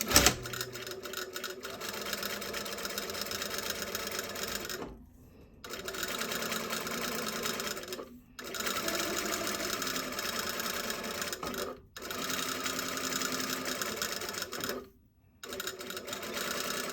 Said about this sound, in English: No, I'm going to sew from the wrong side